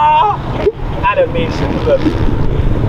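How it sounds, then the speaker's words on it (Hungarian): Wind gusts buffet the microphone outdoors at a race day in Tápióbicske, a rough rumbling roar beneath someone speaking in Hungarian. "De egyébként a szél itt zavaró."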